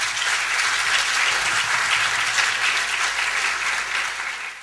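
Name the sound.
audience applause for a professor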